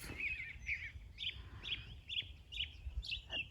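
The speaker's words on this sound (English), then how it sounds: "A bird's song." Outdoors in the English countryside, a bird sings a run of high, clear chirping notes repeated roughly twice a second, fairly faint over soft wind, with no talking.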